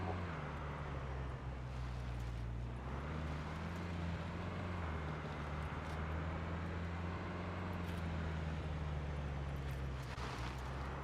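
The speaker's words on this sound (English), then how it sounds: "Hey, I can hear another car." A car drives nearby in the survival video game SCUM, a steady low engine drone with a continuous rumble that holds for the whole stretch without voices.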